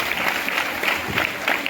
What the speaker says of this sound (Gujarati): વિનર માટે કોઈ જોરદાર તાળીઓ.